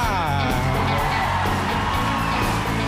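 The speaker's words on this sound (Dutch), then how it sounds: "Met meteen aan het begin al een groot applaus voor de Big Band." A studio audience at a live televised talent show cheers, whoops and applauds for a big band, a dense, continuous roar of crowd noise with the band's music mixed in underneath.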